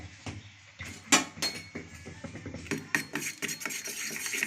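A spoon scrapes and clinks against a bowl while ground spices, including turmeric and Kashmiri chili powder, are mixed, giving a busy run of close, uneven metallic taps and rubs.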